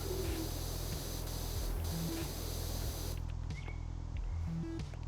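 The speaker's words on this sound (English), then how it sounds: "It's spraying with abandon." A Powerwash Simulator pressure washer sprays in a loud, continuous hiss that changes texture partway through, as game music plays faint notes underneath.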